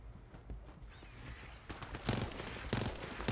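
Rapid gunfire in the video game Borderlands 3, a quiet rattling burst of shots that grows denser and louder toward the end.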